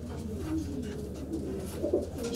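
Racing pigeons cooing in an outdoor loft, several soft low coos overlapping at close range over a faint steady background hum.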